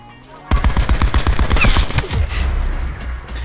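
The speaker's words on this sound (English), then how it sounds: "He shot through his teammate to do that." Rapid automatic gunfire in a multiplayer video game shooter, a loud burst of dense repeated shots after a brief quiet lead-in, trailing off into lingering echo and rumble with no talk over it.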